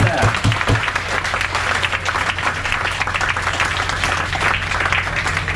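Loud, sustained applause from a cruise ship audience greets the executive chef during a farewell evening aboard the Viking Vidar, with a few sharp claps at the start and cheering voices mixed into the steady clapping throughout.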